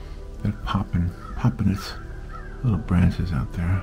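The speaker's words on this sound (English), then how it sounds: "Do you hear the birds outside?" Crows caw outside in short bursts of harsh calls, moderately distant, while a person talks nearby.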